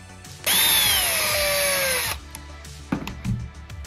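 A power drill whirs loudly for about a second and a half, driving a long 3/4 inch screw into a knife sheath clip, then falls silent, followed by a few soft handling clatters.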